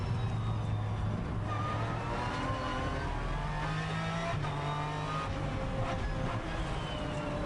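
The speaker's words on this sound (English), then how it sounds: "Great noise from the Aston, down a couple of gears into turn 13." An Aston Martin race car engine roars steadily throughout, with pitch drops as it shifts down through gears and blips between shifts into a corner at the Navarra circuit during a 2011 Blancpain Endurance Series race.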